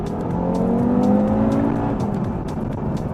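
Audi TT RS five-cylinder engine accelerating hard toward the top of the rev range, a steady loud warbling drone that climbs in pitch, heard from inside the car with no talking.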